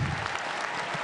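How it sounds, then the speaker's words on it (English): A crowd claps steadily in a sustained round of applause at a FIRST Tech Challenge robotics regional opening ceremony, dense and even throughout, with no voices standing out. "I want everyone to give them a round of applause"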